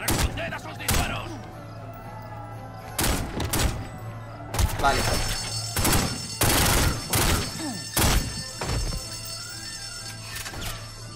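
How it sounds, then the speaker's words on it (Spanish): Repeated bursts of gunfire in The Godfather video game crack out in irregular volleys over a steady electronic hum, with a brief spoken word in between. "¡Responded a sus disparos!"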